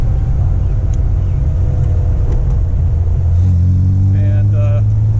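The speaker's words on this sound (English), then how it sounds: "Right there, Austin Healey 106." A 1959 Austin Healey 100-6 at high speed, a loud continuous engine roar and road rumble that builds into a strong steady drone near the end, with a voice speaking over it.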